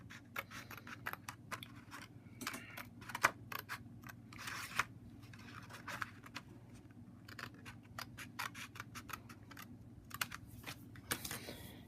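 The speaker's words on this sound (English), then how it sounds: "So I need to cut on this line." Scissors cut paper along a line for a model bridge, a quiet close series of crisp snipping crunches in a steady uneven rhythm with short pauses between cuts.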